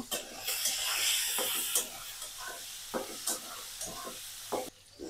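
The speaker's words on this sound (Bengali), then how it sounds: "আমার মাছের মাথাটা ভাজা হয়ে গেছে" A fish head fries in hot oil with a continuous close sizzle, broken by repeated scraping and stirring knocks of a utensil against the pan.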